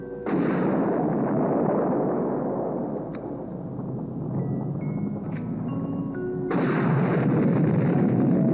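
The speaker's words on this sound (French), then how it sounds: "Les explosions en surface se multiplient." Explosions rumble across a planet's surface as a sci-fi TV sound effect, with sustained loud roaring blasts, a lull with faint tones, then a fresh burst.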